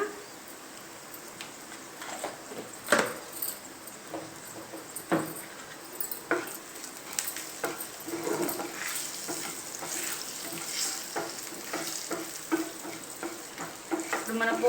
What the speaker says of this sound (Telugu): పసుపు వేస్తున్నా లైట్గా